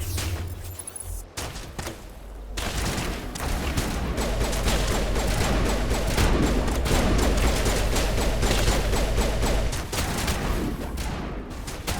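Sniper gunfire from the Mass Effect Legendary Edition video game, a dense, loud barrage of shots that runs almost without a break behind game music and combat noise, with no speech.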